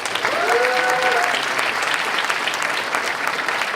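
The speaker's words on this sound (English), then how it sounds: "can we please give a round of applause for that?" Steady audience applause fills an award ceremony hall, dense and continuous throughout with a faint tonal whistle briefly near the start.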